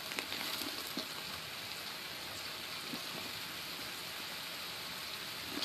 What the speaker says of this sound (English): the rain's killing my hearing so hard.